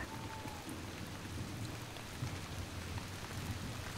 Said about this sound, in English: Do you like listening to the rain? It's like a constant, relaxing drone, isn't it?